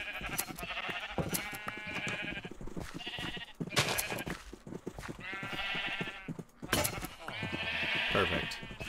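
Many sheep bleating over and over in the video game Minecraft, the loud overlapping calls mixed with a person talking.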